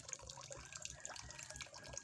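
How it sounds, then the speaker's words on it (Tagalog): Water drips and trickles off banana leaves soaked in a drum and hung up to drain before sun-drying for oyster mushroom growing, a steady close patter of splashes with no talk. "Patiliin natin yung tubig."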